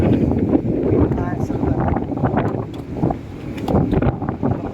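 Strong wind sweeps across Crystal Cove Island in Boracay, a steady roar buffeting the microphone close up while a person talks over it throughout.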